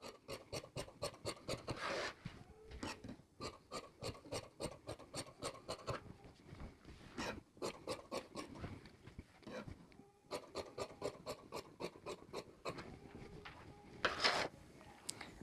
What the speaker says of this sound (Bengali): এখন হাতার মহড়া কাটিং করব।